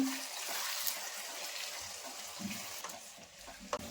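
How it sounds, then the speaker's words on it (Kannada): Coriander powder and garam masala fry in oil in a pan, giving a steady, close, watery sizzle that runs without a break, with a few soft stirring clinks. "ಇದನ್ನೆಲ್ಲ ಚೆನ್ನಾಗಿ ಫ್ರೈ ಮಾಡ್ಕೋಬೇಕು"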